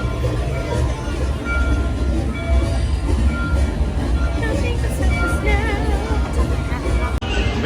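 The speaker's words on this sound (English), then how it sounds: "so we're about to board the train." A theme park train at Disney's Hollywood Studios rumbles steadily along with a low, constant roar and some rattling, while people talk nearby throughout.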